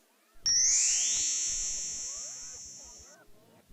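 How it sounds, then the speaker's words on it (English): A bright electronic chime marks the page turn in a children's read-along storybook, a single sustained tone that rings clearly and slowly fades over about three seconds, heard alone. "When it's time to turn a page, you'll hear a sound like this."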